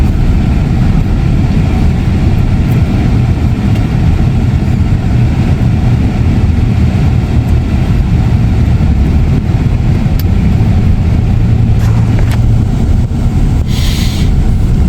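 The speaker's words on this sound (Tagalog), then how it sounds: "Traffic dito." Steady street traffic rumbles on a busy road, a continuous low engine drone from passing cars and heavier vehicles, loud and unbroken throughout with no talking.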